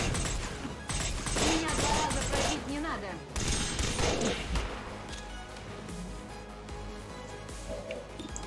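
Video game gunfire in XCOM: War of the Chosen, dense bursts and crackling shots with impacts over the first half, fading to quieter effects as someone talks.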